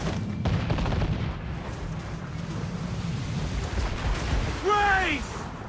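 Ship cannon fire during a naval battle in Assassin's Creed with Kenway's ship, booming shots over rushing sea and wind, with a shout rising over the din near the end.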